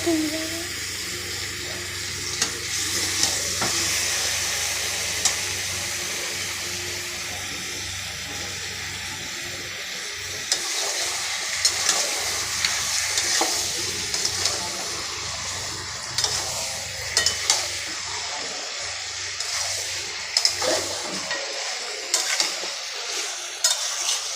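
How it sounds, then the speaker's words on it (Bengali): Marinated chicken sizzles and is sautéed in a pan, a continuous frying hiss with frequent scraping stir strokes and clatter, while a voice talks now and then. "ম্যারিনেট করা মাংসগুলো দিয়ে দিলাম ভালো করে কষিয়ে"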